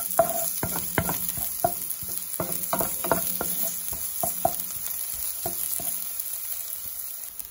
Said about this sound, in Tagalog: Konting olive oil para lang magisa yung bawang at saka sibuyas.